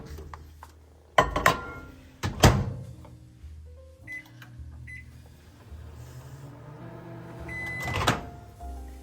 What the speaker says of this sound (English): we're going to microwave this until it is melted